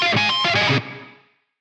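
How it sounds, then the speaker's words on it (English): A distorted electric guitar solo phrase from a mix rings out, then a short reverb tail fades away within about half a second into silence. "Then a little bit of reverb to put it in its place."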